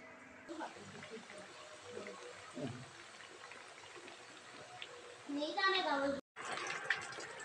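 A rainy-season waterfall gives off a steady, broad rushing of falling water, fairly faint and distant, while people talk over it.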